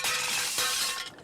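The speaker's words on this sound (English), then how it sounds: "all the crockery in the dining car smashed" Crockery shatters in a steam train's dining car as the locomotive races down a bank at 114 mph, a loud sustained crash of breaking china and glass with a second burst of smashing partway through, then tapering off.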